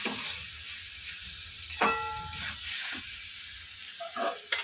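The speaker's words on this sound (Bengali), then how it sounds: "এখন জল দিয়ে দিচ্ছি।" Soybean curry sizzling in a pan as water is poured in, a soft steady hiss with a sharp burst of sizzle and brief stirring clinks, fairly quiet and close.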